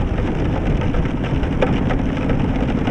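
Heavy rain roars steadily around a rider on a Victory Vegas Jackpot motorcycle on the road, a dense continuous wash of rain and wind noise with no break.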